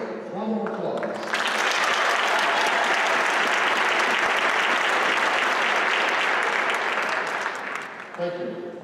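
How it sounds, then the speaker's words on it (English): Sustained audience applause for a third-place art contest winner at a Martin Luther King Jr. birthday celebration in Milwaukee, loud and dense for about six seconds after brief speech, then fading back toward talk. "Let's give him a round of applause."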